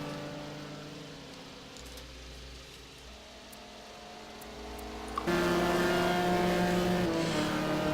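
Race cars including a Koenigsegg run in a racing video game at Le Mans, a steady engine drone that swells louder and rougher partway through as a car closes in.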